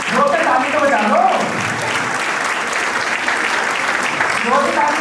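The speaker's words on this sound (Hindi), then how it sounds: "और जोर से ताली तो बजा लो" An audience claps loudly at a play school annual day program, a dense and continuous burst of many hands that stays strong for the whole stretch, with faint voices briefly audible under it.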